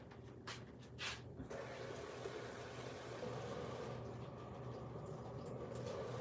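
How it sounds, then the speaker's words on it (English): Tap water running into a sink while something is rinsed out, a quiet steady gushing stream after a few brief clunks at the start. "Let me rinse this out."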